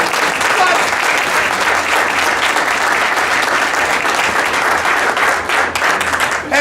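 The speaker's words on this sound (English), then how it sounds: "Give Dave & Buster's a huge clap." Sustained, loud crowd applause fills the room for several seconds at a Dave & Buster's media tour event, with dense steady clapping and voices mixed in.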